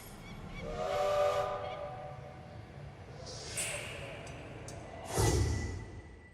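A train whistle sounds in a couple of long blasts over rumbling rail noise, with hissing bursts as the train pulls away from the assembly and test building at the Tyuratam launch site.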